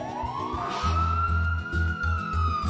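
Fire truck siren, a rising wail that holds a steady high tone for about two seconds, loud and alone.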